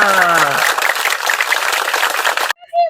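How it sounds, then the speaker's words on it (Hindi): Applause and clapping from a gathered audience at an Eid celebration, a dense sustained burst with voices over it at the start, then cutting off abruptly into near silence with a brief voice. "चले जी, तालियां।"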